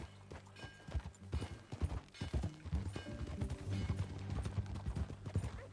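Horse hooves clip-clopping in Red Dead Redemption 2, a steady close trotting rhythm of distinct hoof beats carrying throughout at moderate volume with no talk over it.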